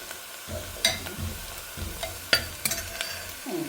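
Onions frying with whole cumin seeds, hissing softly in a pan while a spoon stirs and scrapes in repeated sharp clinks and scuffs over the steady sizzle.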